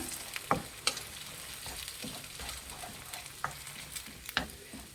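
Eggs fry and are stirred with chilli powder and salt in a pan on medium flame for a bachelor's egg biryani, giving a steady sizzle broken by sharp scraping clicks of a spatula.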